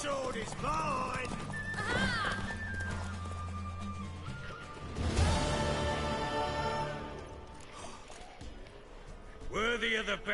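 Hooves clop and a horse neighs repeatedly in The Witcher 3, the whinnies rising and falling in loud bursts near the start, middle and end, with background game sounds and some talk.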